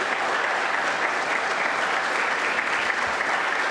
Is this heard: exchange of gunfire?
no